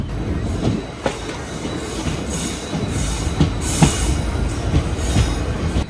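A passenger train arriving at Ramanathapuram station rumbles steadily with periodic clanks and thumps from the wheels, and a brief hiss of brakes, heard from inside a carriage.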